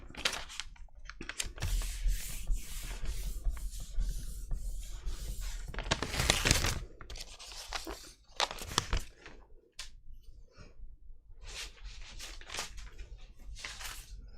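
Paper scraps are rubbed and wiped across a gel printing plate, giving close dry scuffing and rustling strokes in uneven bursts with short pauses between them, and no talking.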